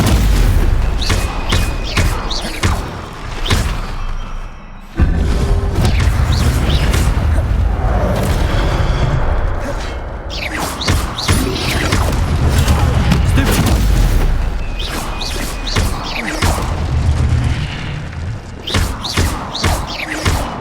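Spell blasts in combat in Hogwarts Legacy: repeated loud booming thuds and sharp cracks in quick bursts, nearly continuous over heavy layered game effects, with no talking.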